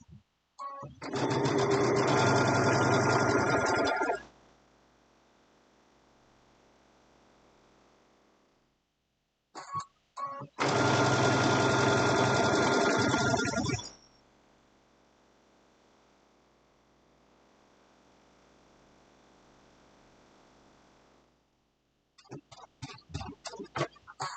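A sewing machine stitches through smooth foam for an Easter basket in two loud runs of rapid mechanical whirring, each lasting a few seconds, separated by near silence and followed by faint handling clicks.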